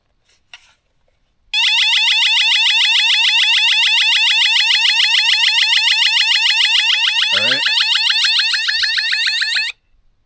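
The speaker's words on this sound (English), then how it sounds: "This guy is the motion sensor and that is the alarm." A motion sensor alarm at a wilderness campsite blares a loud, continuous warbling electronic tone for about eight seconds, then cuts off abruptly, with a short low thump partway through.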